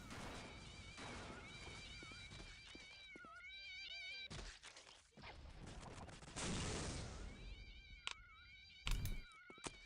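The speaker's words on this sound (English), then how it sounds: "It is raining cats." Cats meow repeatedly in the Postal 2 video game as they rain from the sky, with loud thuds and crashes and gunfire bursts mixed among the close, overlapping cries.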